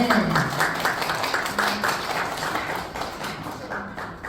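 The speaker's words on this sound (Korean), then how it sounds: "박수 부탁드리겠습니다" Audience applause fills a Korean knowledge forum's appointment-certificate ceremony at Chungmu Art Center, a steady patter of many hands clapping at moderate loudness for the full stretch, with faint voices underneath.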